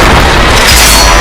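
Gunfire in a dubbed action film: a loud, dense burst of booming shots fills the whole moment with little pause between them.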